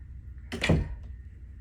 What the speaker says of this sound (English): That was the wind.